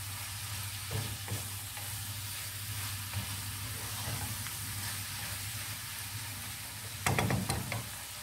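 Peppers and garlic sizzle steadily in a hot pan, with a constant close frying hiss, occasional stirring scrapes and a louder crackle near the end.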